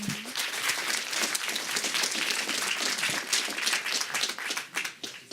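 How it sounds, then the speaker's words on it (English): Audience at a Google Solve for X conference in New York applauds a departing presenter, a full, even clapping crowd that holds steady and begins tapering near the end. "One last round of applause for Bodo."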